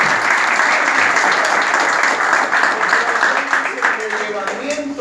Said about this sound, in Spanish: El aplauso para la gente de...